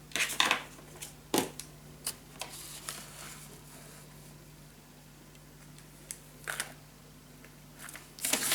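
Scissors cut paper for a gatefold mini album, giving a few sharp snips and crisp clicks in quick clusters, quiet and close, separated by stretches of near silence.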